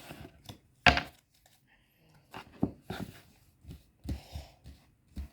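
A deck of tarot cards being cut and handled, a few soft separate card taps and riffles spaced apart, close and quiet, with no talking.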